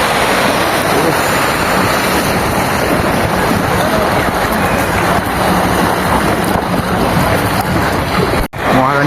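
Sea waves at Digha beach wash in a continuous loud, broadband roar with wind buffeting the microphone, while a boat passes offshore and voices murmur faintly underneath.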